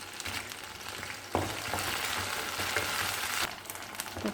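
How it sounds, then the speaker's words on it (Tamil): Garlic, shallots and green chilies sauté in hot oil in a pan, giving a steady, close sizzle with brief bursts of stirring, continuous and alone without talk. "சின்ன வெங்காயம், மிளகாய் சேர்த்து வதக்கலாம்."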